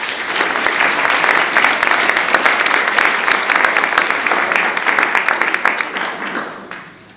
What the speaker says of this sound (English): Can we have a round of applause for Julian, please?